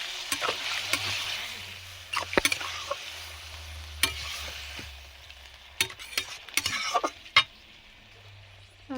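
Jackfruit curry is stirred and fried in a pan, with a steady close sizzle and scattered sharp clinks and scrapes of the spoon against the metal.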